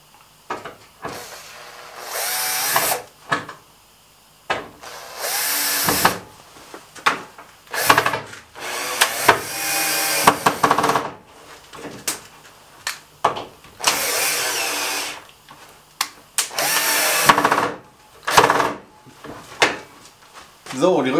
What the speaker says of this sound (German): So schraube ich es einfach jetzt hier so durch und dann ist die Rückwand ordentlich fest.